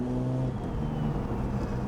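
Holden VL car on its first drive, engine droning steadily at a constant low pitch with a continuous hum from inside the car, no talking.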